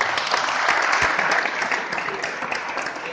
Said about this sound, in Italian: Quindi un applauso a Gianni Bocca.